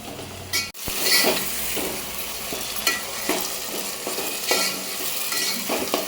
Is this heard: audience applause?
no